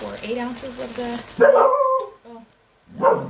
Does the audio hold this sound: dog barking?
yes